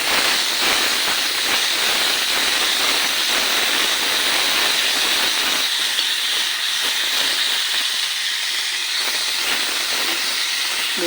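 Chickpeas sizzle while being stirred and fried in a hot pan, making a loud, steady hiss and crackle that eases slightly partway through.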